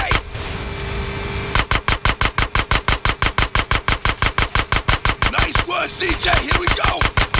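Rapid automatic gunfire in GTA San Andreas as the gate is shot out: after a noisy opening, dense, evenly spaced shots hammer out loud and close for several seconds, then break into rougher, scattered bursts near the end.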